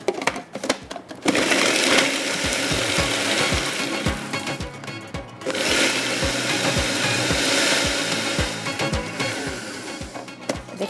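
An electric chopper whirs through garlic and other Turkish sheesh kebab ingredients in a home kitchen, running in loud bursts with brief pauses between them and a rhythmic, rattling drone, close to the listener.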